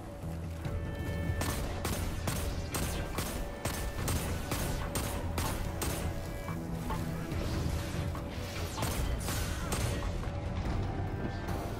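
Rapid bursts of explosive weapon fire from a Destiny 2 solo Prestige Nightfall battle, with repeated booming blasts and crashes landing in irregular clusters over a dense, continuous game soundscape.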